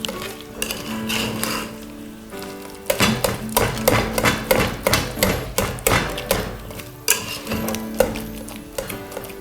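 Boiled potatoes are mashed in a pot, with a steady run of dull, rhythmic thumps and scraping knocks from the masher against the pot, close and fairly loud.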